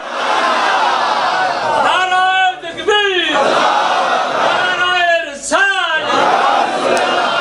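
A crowd at a religious mehfil gathering chants slogans in loud, swelling waves. Two distinct rising call-and-response shouts stand out over a constant roar of many voices.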